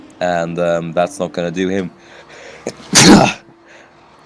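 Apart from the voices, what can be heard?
sneeze by the stream commentator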